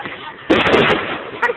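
A firework explodes at a Bonfire Night display: a sudden loud bang with crackling that trails off after a short quiet lead-in, followed by brief bursts as people chat.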